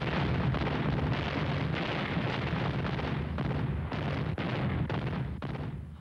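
Heavy artillery from a massed bombardment of some 1,600 guns at the 1944 Battle of Cassino, a continuous rumbling barrage of overlapping booms and blasts with sharp thuds punching through roughly every second.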